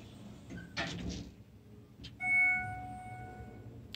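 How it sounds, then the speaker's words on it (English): Sliding doors of a Schindler hydraulic elevator at Webster Hall, Amherst College, rumble shut quietly, followed by a clear sustained chime tone in a hushed building. "Then we watch doors close."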